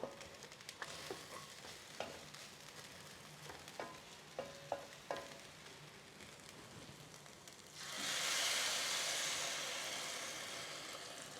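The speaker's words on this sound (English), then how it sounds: "I'm going to add my water now" Water poured into rice frying in a pot for arroz con gandules, setting off a loud, steady burst of sizzling that swells and slowly fades, after earlier light stirring clinks.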